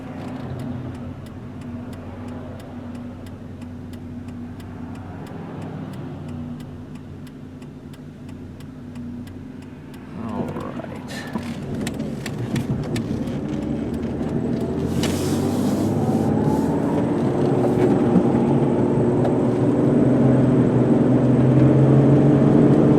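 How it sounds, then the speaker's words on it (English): 1998 Ford Explorer XLT 4x4 cruising on a road at 50-55 mph, heard from inside: a low engine hum and tire rumble, with ticking clicks around the middle, then steadily swelling road and engine noise, no talking. "let you listen kind of to how the car sounds when it rides and everything"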